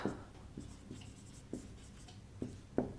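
A pen writing out a maths solution for a class 6 word problem about three taps, with quiet, close scratchy strokes and small taps in an irregular rhythm, alone without talk.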